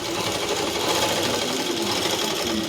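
A sewing machine stitching a boat neck top, a loud, steady, continuous mechanical whir running unbroken throughout.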